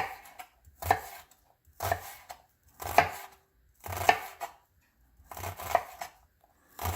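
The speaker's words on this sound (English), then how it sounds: "You want to chop it pretty small." A knife chopping onion small on a board for a spicy bourbon whiskey BBQ sauce, delivered in five distinct bursts of rapid close taps separated by short pauses, with no talking.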